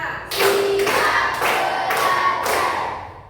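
Children in a classroom clap together in rhythm, five loud, evenly spaced bursts of hand claps with faint voices underneath.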